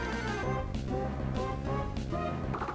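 Layered melodic background music from Pokémon Sapphire's Mt. Pyre, with steady chords and a bright synth lead, playing continuously at an even level with no voices.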